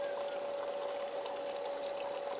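Water pouring continuously out of a Bestway FlowClear sand filter pump during backwash, a steady close splashing and trickling stream with a constant high pump whine underneath, no talk.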